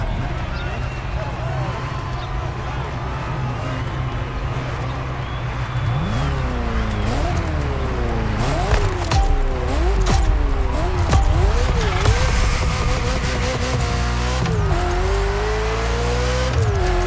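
A Ferrari F40 supercar races in The Crew Motorfest, its engine revving up and down in repeated sweeps through gear changes, loud and close, with a narrator talking over the driving.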